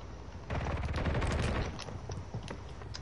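A dense burst of rapid gunfire in the video game Warzone erupts, loud and close, then thins into scattered sharper shots continuing through the rest of the clip.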